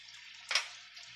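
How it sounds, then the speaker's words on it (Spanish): About two liters of water are poured into a pot of cauliflower and spices for pickled chiles en escabeche. A steady thin stream hisses throughout, with a brief louder splash midway and no one talking. "Vamos a agregar el agua."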